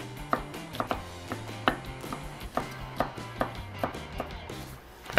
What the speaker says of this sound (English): Just gonna start dicing.